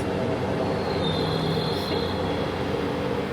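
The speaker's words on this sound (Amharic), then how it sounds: "በፈጣን ባቡር ነው የምንሄደው" A high-speed train at a station in Hiroshima, Japan, gives off a steady, loud rumble with rail noise and a faint high squeal of wheels running throughout, with no voices.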